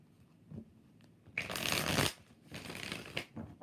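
Tarot cards get shuffled in two quick riffling bursts, a dense papery whirr up close, preceded by a few soft taps and handling sounds.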